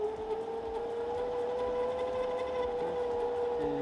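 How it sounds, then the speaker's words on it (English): Small metal lathe motor running steadily while turning a small compass part, a continuous close hum with a faint whine and no pauses. "So we're going to turn on our lathe"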